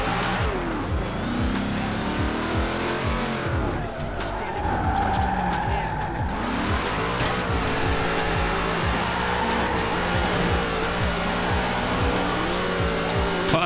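Cars driving in Forza Horizon 4 with loud continuous engine roar and repeated tire squeals and skids throughout, alongside talking.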